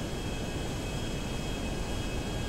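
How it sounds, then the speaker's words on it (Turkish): A jet aircraft in the video game GTA Online roars steadily and loudly, a dense continuous engine rush with a thin high whine running underneath; no voices are heard. "Ya alttan gelen jet var lan."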